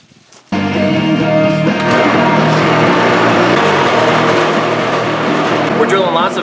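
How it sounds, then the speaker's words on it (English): A loud, continuous motor drone of a heavy drill boring 3/4-inch holes in thick metal starts abruptly and runs steadily without pause. "We're drilling lots of 3/4 inch holes"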